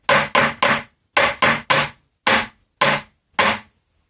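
Walnuts knocked rhythmically on a wooden table, nine crisp, hollow taps in quick clusters of three followed by slower single beats, loud and close with no talking.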